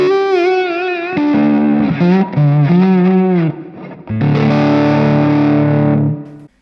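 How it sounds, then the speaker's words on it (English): Electric guitar run through a Line 6 Helix on a Plexi-style amp model with volume and master cranked, giving a loud, fuzzy, distorted tone; sustained chords and bending notes ring alone, with a short gap before a final thick held chord. "I'll have the helix set to like a plexi sound and kind of just really wind up the volume and the master volume to get that really fuzzy kind of."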